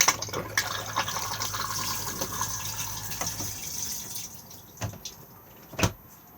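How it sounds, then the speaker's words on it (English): A cassette toilet flushing inside a Benimar Mileo 231 motorhome: steady running water for about three seconds, then a few brief clicks and knocks of the mechanism, close and fairly quiet, with no talking. "To open to the cassette, just pull the lever just here and then push the flush just here."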